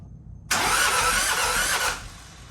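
The diesel engine of a John Deere 650 tractor fires on its first start after a budget rebuild, with a sudden loud rough roar lasting about one and a half seconds before cutting back.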